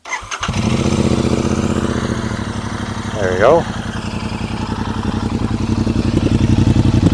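A Royal Enfield Continental GT/Interceptor 650 motorcycle engine starts and settles into a deep, throbbing idle with a brief rev partway through, close and loud; a voice speaks briefly at the start.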